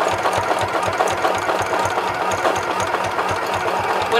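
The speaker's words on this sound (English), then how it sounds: "this machine is not really made for sewing all of this fabric" A home sewing machine straining through thick layers of tote bag fabric runs with a steady, rapid mechanical thumping, close and continuous, each stitch beating in an even rhythm.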